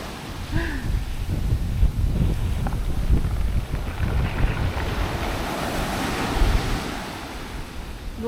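Sea waves washing onto a beach in Spain, a continuous loud rush of surf with strong wind buffeting the microphone.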